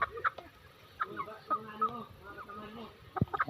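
Pure Milsim Black Spartan-line stags, tall young roosters, cluck in short scattered bursts at close range, with a few sharper calls near the end.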